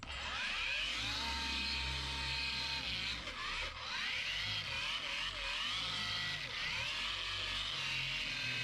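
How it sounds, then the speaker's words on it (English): A Dewalt cordless variable-speed random orbit polisher runs steadily without pause, a loud close whine with speed shifting up and down over a constant low motor drone. "And you can hear the sound of the polisher."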